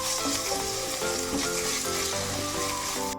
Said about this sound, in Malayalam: ഇഞ്ചി വെളുത്തുള്ളി ചതച്ചത് രണ്ട് പച്ചമുളക് നന്നായി വഴന്ന് വരക്കാം